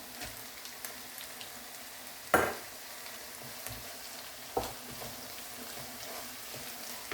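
Chicken cooks in a pan with freshly added ground coconut, a faint, steady sizzle with soft stirring scrapes and two sharper bursts of spitting, heard close and quiet, with no voices.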